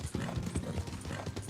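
Horse hooves clip-clopping at a steady trot in the Red Dead Redemption video game, a continuous, fairly loud rhythmic patter of hoofbeats with a faint voice underneath.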